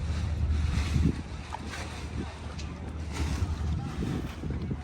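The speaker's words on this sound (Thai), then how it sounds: "เสียงน้ำกระทบฝั่ง" Water laps and washes gently against the shore alongside a steady low wind rumble, continuous and moderately loud, with no clear talking.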